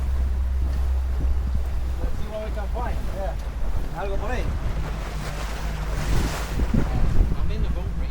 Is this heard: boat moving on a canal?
yes